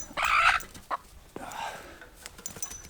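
Backyard chooks in a pen make a loud close squawk followed by softer clucks and a short burst of agitated clucking, in uneven bursts with quiet gaps and faint handling noises.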